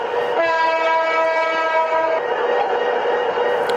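Train in Train Simulator Bangladesh, a steady loud rumble with a sustained horn-like harmonic tone that sounds then fades partway through, followed by continuous rolling noise alone.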